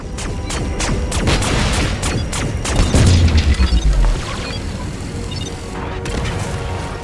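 Shots and explosions in the LEGO Marvel Super Heroes video game, a dense run of rapid blasts and crashes with a deep booming rumble in the middle, continuous and loud throughout.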